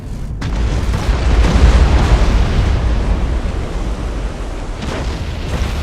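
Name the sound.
Imperial ship exploding in video game Battlefleet Gothic Armada 2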